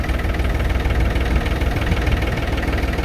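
A tractor engine idles close by, a steady loud low rumble with a rapid knocking pulse and vibration throughout, with no voices over it.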